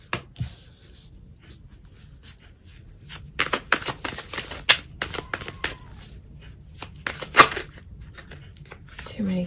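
Tarot cards shuffled by hand, a run of crisp, papery riffling taps and slaps building in bursts, close and moderately loud, with quieter handling before and after.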